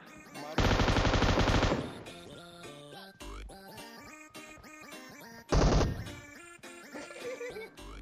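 Heavy bursts of gunfire in the PUBG Mobile battle game, two loud sustained volleys of rapid shots a few seconds apart over a busy background of game sounds and music.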